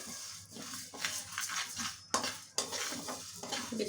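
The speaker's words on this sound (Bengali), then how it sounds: "নেড়ে নিচ্ছি" Mas kalai dal dry-roasting in a pan for a gourd dal, stirred with a metal utensil: repeated scraping strokes and clinks against the pan over a steady low hiss, close and fairly loud, with no voices.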